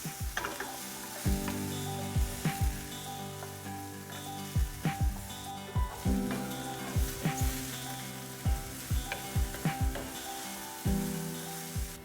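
Garlic, ginger and green onions sautéing in avocado oil over medium heat, a steady close sizzle broken by regular scraping stirs of a utensil against the pan, with no voices.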